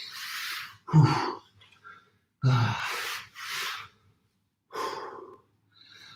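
Deep, forceful breaths during an upper-body strength workout, with about five loud, close inhales and exhales separated by short pauses of near silence.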